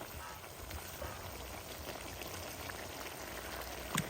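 Goat meat bubbling in its own water in a pot on a village stove, a faint steady simmer of soft bubbling and light crackle, with a brief clink near the end.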